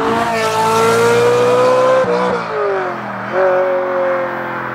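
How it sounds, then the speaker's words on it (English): Ferrari 458 Italia V8 exhaust at full song, climbing sharply through the revs, briefly dropping at a gear change, then rising again, loud and close with a race-car wail. "it just doesn't make the Ferrari noise"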